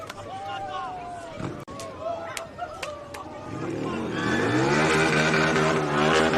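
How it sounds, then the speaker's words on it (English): A motorbike engine revs and roars just behind the sideline at a suburban football ground, swelling louder over the second half while a commentator talks over it. "So we have a motorbike or just behind us making a lot of noise"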